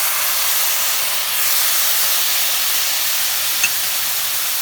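Milk poured into a hot pan of sweetened siwaiyan, giving a steady, even hiss and sizzle that holds throughout with no talking.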